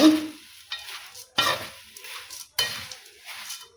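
Avalakki chuda, a crisp sun-dried flattened rice snack, tossed with a spoon in a pan: three or four rustling, scraping stirring strokes with light metal clinks, close and fairly quiet, separated by short pauses, no speech.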